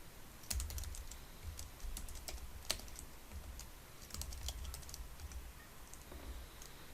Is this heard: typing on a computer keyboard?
yes